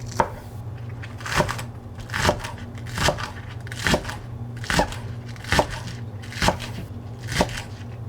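Knife chopping vegetables for Korean budae jjigae stew on a cutting board, a steady series of about ten crisp, evenly spaced thuds, close and clear with a low background hum and no talking.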